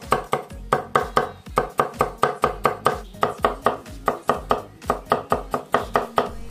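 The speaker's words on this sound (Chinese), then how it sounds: "接下来我们来切一些配料。" A kitchen knife chops vegetables such as cucumber, ginger and small chilies on a cutting board for a cold tripe salad, striking in a steady, fast rhythm of crisp, close thuds with no talking.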